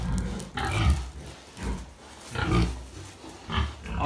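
An agitated sow on a pig farm, a crossbreed of Large White and Pietrain, giving repeated loud grunting squeals in bursts about once a second with short pauses, close by, no talking.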